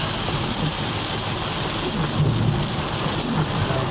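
Heavy rain drumming steadily on a moving van with a low road rumble underneath, dense and constant, no voices.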